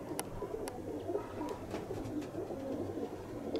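Racing pigeons in a Kozani loft coo softly and steadily, with low murmuring calls and a few sharp clicks and flutters close by.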